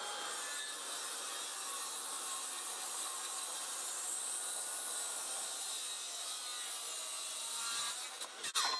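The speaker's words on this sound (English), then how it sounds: "I'm double sawing today" Continuous rhythmic rasping of a handsaw cutting timber for a timber-framed garage, close and steady, ending with a few sharp knocks.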